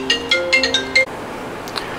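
A work phone rings on a workbench during repair of a Realistic STA-2280 stereo receiver: two loud bursts of an electronic ringtone with bright tonal notes that stop abruptly after about a second, followed by quiet room tone.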